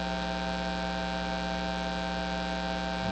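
A computer-synthesized tone an octave below middle C, a steady buzzy sustained pitch rich in harmonics, constant in level from start to finish with no other sounds.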